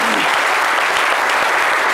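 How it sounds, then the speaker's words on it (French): Dense, loud applause from a studio audience on a midday French-language talk show, a continuous wash of many hands clapping at once. "Martika Production avec Jean-Hubert Nankam, digne de vos applaudissements, mesdames et messieurs"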